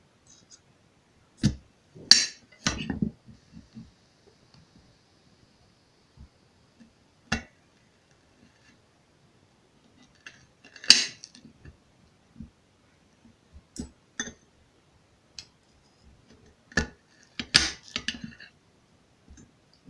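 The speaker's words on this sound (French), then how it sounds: "Alors, voici notre oignon. Nous allons le couper en 4." An onion is cut into four pieces with a knife, heard as a few sharp, separate chops and taps on a board, spread out with quiet gaps between them and a small handling rustle.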